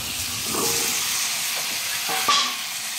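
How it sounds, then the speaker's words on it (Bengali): Spices, potatoes and meat stirred in a frying pan, with a continuous close sizzle broken by a few scraping stirs and a sharp clank near the end. No one speaks. "মশলা, আলু, মাংস দিয়ে ভালো করে নাড়িয়ে নেব।"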